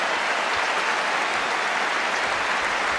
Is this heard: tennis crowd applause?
yes